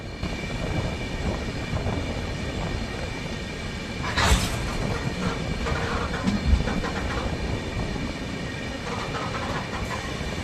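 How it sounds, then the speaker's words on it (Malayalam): Passenger train rolling into platform 2 of Koyilandy railway station, a steady rumbling rail noise with a sharp hissing burst near the middle and occasional wheel knocks. "കൊയിലാണ്ടി റെയിൽവേ സ്റ്റേഷൻ്റെ 2ാമത്തെ പ്ലാറ്റ്ഫോമിലേക്കാണ് നമ്മുടെ ട്രെയിൻ ഇപ്പോൾ എത്തിക്കൊണ്ടിരിക്കുന്നത്."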